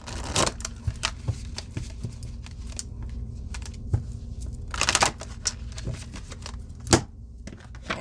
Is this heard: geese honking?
no